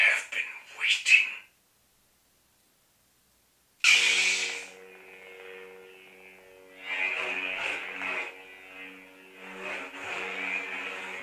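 A low, steady electric hum with a soft buzzing edge from a Darth Maul lightsaber sound font idling, following a brief burst of voice and a moment of silence.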